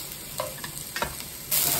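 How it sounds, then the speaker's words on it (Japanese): Onions stir-fried in a pan with garlic for a shrimp coconut stew, a steady close sizzle broken by a few soft scraping stirs, rising to a louder, brighter hiss near the end. "玉ねぎ炒めましょうか"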